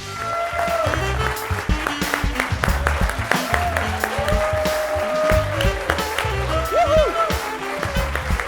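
A studio audience on a Macedonian television talk show applauds to welcome a band. Dense, steady clapping runs throughout, mixed with music and brief voices.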